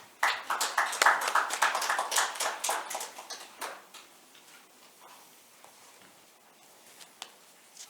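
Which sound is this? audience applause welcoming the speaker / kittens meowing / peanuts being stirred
audience applause welcoming the speaker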